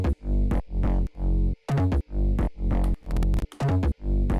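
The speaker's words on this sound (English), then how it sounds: "the main bass sounds like this" Synth bass running through a full effects and mixing chain in an electronic music production, loud rhythmic pulses in a repeating pattern with short gaps between notes.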